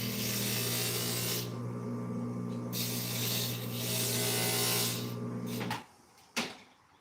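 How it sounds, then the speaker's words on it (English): A glass grinder smooths the curved edges of stained glass pieces, giving a close, continuous whirring hum with gritty grinding that swells and eases as the glass touches the wheel, then stops, followed by a sharp clunk. "I just want to barely touch on these on the grinder"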